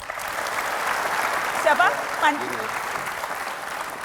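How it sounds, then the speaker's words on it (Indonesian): Audience applause for Tobas fills the room as a steady broadband patter, with a voice briefly speaking over it midway. "kita kasih tepuk tangan untuk Tobas"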